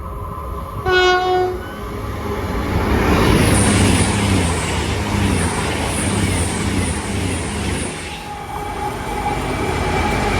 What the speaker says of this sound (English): passing through now is going to be Avanti West Coast service, running from London Euston to Birmingham New Street.